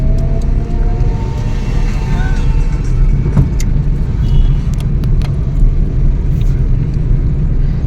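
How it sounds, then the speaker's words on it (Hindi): A car being driven along a busy city road in Jaipur, with a steady engine rumble and road noise throughout and occasional passing traffic. "अभी मैं ड्राइव कर रही हूँ"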